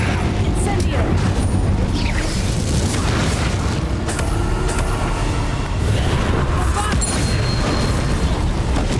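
Fiery Incendio spell blasts from a Hogwarts Legacy battle against Inferi, loud and continuous, with booming low rumbles and crackling bursts layered over dense combat noise and spoken spell incantations throughout.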